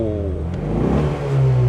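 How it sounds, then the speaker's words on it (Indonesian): A 2025 Ford Mustang EcoBoost's small four-cylinder engine revs briefly with a close, loud, rising exhaust drone that swells toward the end. "Tapi emang suara dengungan knalpotnya tidak sebesar yang 5000 cc atau yang V8 karena mesinnya juga nih cukup kecil ya"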